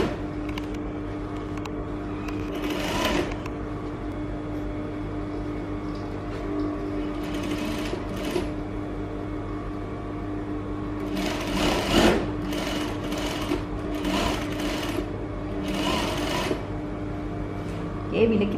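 Sewing machine stitching fabric, a steady mechanical whir with bursts of louder, faster running in short stretches, close and continuous, with occasional light clicks between runs.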